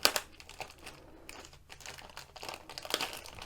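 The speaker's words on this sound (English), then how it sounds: "So this bag has a glue strip, so you can peel it off" Glue strip being peeled open on a plastic bag, close and quiet crinkling and tearing in several short bursts, alone with no voices.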